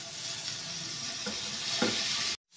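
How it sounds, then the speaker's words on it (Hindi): Paneer frying in butter gives a steady, close sizzle with a couple of brief stirring scrapes, then stops abruptly. "पनीर तल लेंगे हम इसमें मक्खन के अंदर।"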